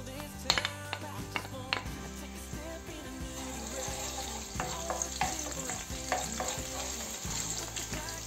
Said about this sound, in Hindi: ऑयल हो गया हमारा गरम, और हमने इसमें डालना है अपना लहसुन।